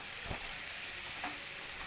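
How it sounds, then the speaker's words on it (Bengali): Elephant foot yam pieces fry with salt and turmeric, giving a soft, steady sizzle with a couple of faint stirring scrapes, quiet and close. "এবার এই লবণ হলুদ দিয়ে ওলগুলোকে আমি খুব ভালো করে একটু ভাজা ভাজা করে নেব"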